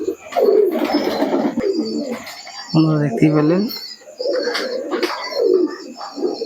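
Pigeons coo repeatedly at night in a rainy setting during feeding time, the soft low calls recurring through the clip beneath a man's nearby speech.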